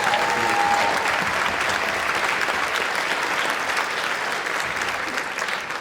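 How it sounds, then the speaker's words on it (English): A school concert audience at a junior spring concert applauds for Mr. Lee, giving sustained, dense clapping from a large crowd that stays loud throughout and tapers slightly at the end. "One more round of applause,"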